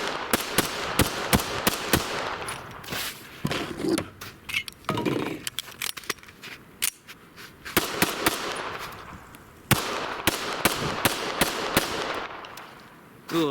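Tisas 1911 A1 Government 9mm pistol fired in a rapid string of sharp, loud reports, with brief pauses between bursts and a faster flurry of shots near the end.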